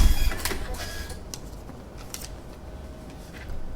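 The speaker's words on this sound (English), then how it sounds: "Remove the obstruction and it prints." A kiosk ticket printer runs through a print job, giving a steady mechanical whir with a few short bursts of feed and cutter noise, recorded close and with no talking.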